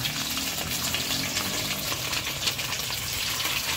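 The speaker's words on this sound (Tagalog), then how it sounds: "piprito muna po natin yung ating tinapa" Tinapa, smoked fish, frying in a pan of oil: a continuous, dense sizzle and crackle, close and steady, with no talking.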